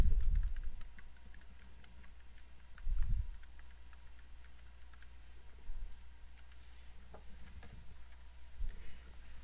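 Typing a network key and password on a computer keyboard, scattered light key clicks in uneven bursts with a few heavier thumps, close and soft over a steady hum.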